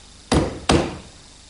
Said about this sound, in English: With this corner chisel, I can square up the mortise.